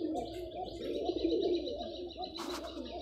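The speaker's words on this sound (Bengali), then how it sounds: "নর কবুতর, নর কবুতর।" Soft, throaty cooing of Giribaz tumbler pigeons, including a male, a low rolling call repeated in close succession, with a faint chirp and light background noise.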